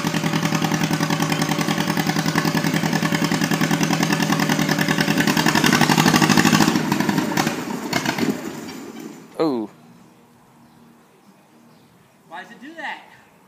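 A 1941 John Deere LA tractor engine labors over wet dirt, stone and gravel with a loud, rapid chugging putter that fades out near the end. Brief noises follow in the quiet.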